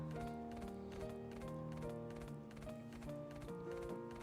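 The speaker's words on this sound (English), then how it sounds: "we're on our horse now, and we're just riding through" Horse hooves during riding in the video game Death's Gambit, a regular rhythmic clatter of footfalls repeating about every half second over sustained musical tones.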